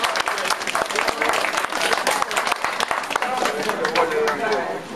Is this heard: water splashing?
no